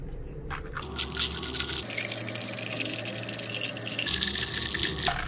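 A crème brûlée bubble tea drink stirred steadily in its cup, a continuous close swishing, sloshing liquid texture without pauses, nothing else over it.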